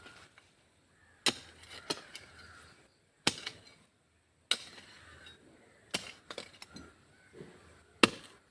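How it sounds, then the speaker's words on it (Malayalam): Sharp, irregular strikes of a hoe digging a pit in a yard to plant a jackfruit sapling, about seven blows spaced a second or so apart, with quiet scraping and rustling between them. "ഇതൊരു കുണ്ട് കൊത്തട്ടെ"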